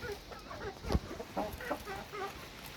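Chickens cluck softly in short, scattered calls outdoors at their evening feeding on a windy, cool October evening, moderately close, with a breezy background.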